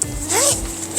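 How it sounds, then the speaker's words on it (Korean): A zipper on a Helsport Lofoten Superlight 2 tent is drawn in a single quick, close, loud pull with a rasping, rising sweep. "뭔 지퍼가 이렇게 많은지."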